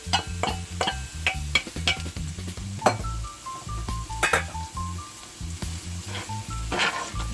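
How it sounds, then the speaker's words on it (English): Onion and garlic going into hot oil in a pan for Jamaican saltfish and kale, with a soft sizzle beneath repeated metallic clinks and taps of a utensil against the pan, close and busy. "I'm adding my onion and my garlic now guys"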